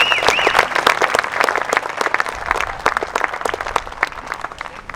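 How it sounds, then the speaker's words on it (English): An audience at a school choir concert breaks into sustained, dense clapping that fills the whole stretch, steady and fairly loud with no voices on top. "So let's give them all a round of applause for enjoying that."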